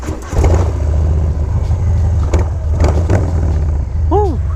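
A Harley-Davidson Softail Street Bob motorcycle engine fires up close by and settles into a loud, rumbling run with a few throttle blips. A brief voice cuts in near the end.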